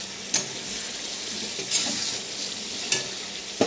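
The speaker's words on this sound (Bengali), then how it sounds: "মশলাগুলো ভাজা হয়ে গেছে।" Spices for a meat roast sizzle steadily in a pan, with a few sharp scraping stirs of a utensil every second or so, close and without talk.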